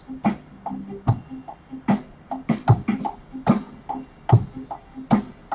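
A steady drum groove with sharp snare hits and kick thumps in an even, repeating pattern, two extra snare notes added mid-bar, played close and alone.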